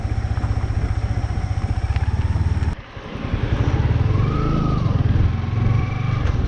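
Motorcycle engines drone loud and close while riding on a highway trip from Tiruttani to Bangalore with two bikes, a Yamaha MT-15 and a Hero Xpulse-type ride, plus a TVS Ntorq scooter; steady rumble, a brief dip, then sustained engine noise with wind.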